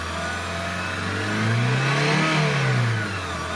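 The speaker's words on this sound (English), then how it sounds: "So let's put some 3000 RPM." A 2002 Honda CR-V engine with a P1077 fault code is revved to about 3000 RPM, rising smoothly from idle, holding, then easing back down. The steady mechanical hum is close and heard alone.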